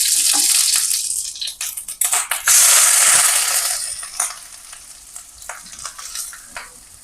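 Ground coconut paste hits hot oil in a pan with mustard seeds and dried red chillies for a Kerala papaya curry, giving a loud, steady sizzle with stirring scrapes that gradually settles, no voices.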